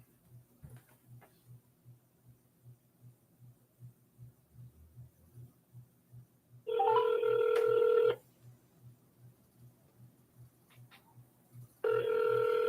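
An outgoing phone call rings back twice, each steady tone burst lasting about a second and a half with a long silent gap between, over a faint regular ticking.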